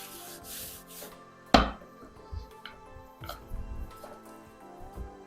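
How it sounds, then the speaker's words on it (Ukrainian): A knife cuts soft yeast dough into strips on a board, a sharp thump followed by softer scraping and pressing strokes, close by. "І нарізаю смужки."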